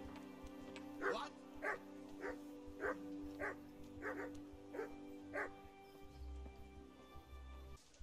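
A puppy in the medieval game Kingdom Come barks about eight times in a steady, evenly spaced rhythm over a humming game soundtrack, fairly faint.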